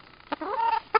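A naked-neck laying hen clucks close by in a farmyard poultry house, giving one short cluck, then a drawn-out rising squawk, and a final sharp cluck.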